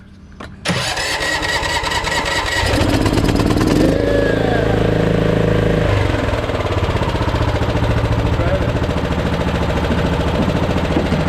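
A Toro LX460 lawn tractor with a Kohler Courage engine cranks and catches after a brief quiet start, then runs loud and steady at a rough, throbbing idle for the rest of the stretch, close by.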